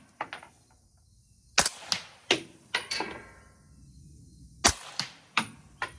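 Suppressed PSA 8.5-inch 338 ARC rifle firing subsonic ammunition outdoors, sharp muffled reports spaced a second or so apart, several shots with short echoing tails and quiet gaps between.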